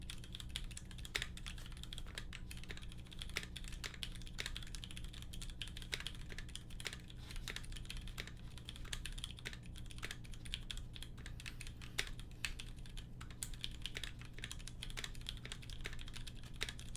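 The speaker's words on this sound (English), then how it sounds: "Again, I'll do a little bit of typing for you." Typing on a KBD 661 keyboard with lubed, retooled linear switches and heavy 125-gram springs makes a fast, even run of soft, deep clacks. It carries on alone for the whole stretch over a steady low hum.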